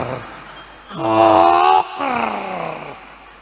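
A voice imitates a fat husband snoring, a drawn-out groaning snore-like rasp of about a second followed by a second shorter rumbling breath, loud and alone.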